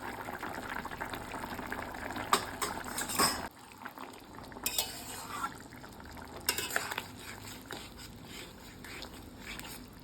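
Ridge gourd pieces going into a simmering Bengali fish curry with potato in a pot, giving soft stirring scrapes, utensil clinks and a low bubbling simmer, with a few sharper knocks against the pan.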